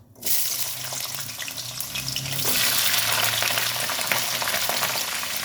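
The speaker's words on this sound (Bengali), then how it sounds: "এবার কুদলিগুলোকে আমি সব কড়াইতে ছেড়ে দেবো।" Cut ivy gourd pieces dropped into hot oil in a wok set off a sudden sizzle that swells and stays as a dense, steady frying hiss, with no voices.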